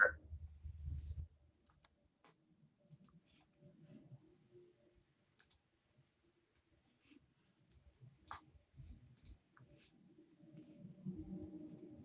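Soft, scattered computer mouse clicks sound sporadically at close range during a virtual tour of a custom home floor plan, separated by quiet gaps and faint breathing-like noises.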